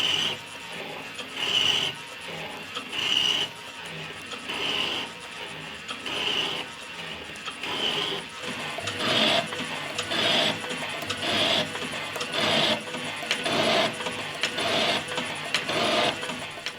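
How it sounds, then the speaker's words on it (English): A metal shaper machines the surfaces of a triple vice, its cutting strokes repeating in a steady rhythm of scraping passes roughly every second, close and moderately loud with a mechanical hum beneath. "this shaper doesn't cut perfectly flat"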